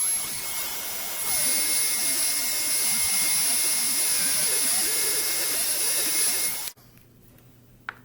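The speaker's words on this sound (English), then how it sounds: "take the heat gun off the paper and then reapply it because it's just not quite hot enough yet" A heat gun runs steadily while heating embossed paper, a loud continuous broadband roar with a faint whine, then cuts off abruptly near the end, leaving quiet room tone.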